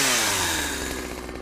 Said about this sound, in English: now we like chainsaw up our own firewood